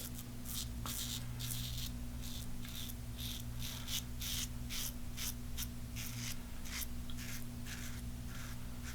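A Parker 91R safety razor shaves skin with repeated short, close scraping strokes in a regular rhythm over a low steady background hum.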